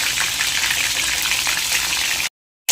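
Lote fish chops fry in hot oil, giving a dense, even sizzle that stays steady and close for about two seconds before cutting off abruptly into silence.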